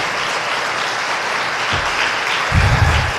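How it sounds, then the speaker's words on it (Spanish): A church congregation claps and applauds in praise, a loud continuous wash of hands with some heavier low thumps toward the end. "Por favor, mejore el aplauso y demos gloria a nuestro Dios."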